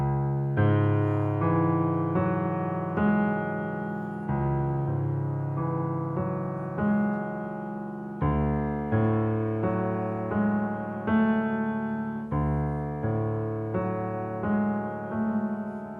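A solo piano plays the third and fourth chords of Ludovico Einaudi's Burning, with each chord struck and left to ring and decay, then repeated in a slow, even pattern.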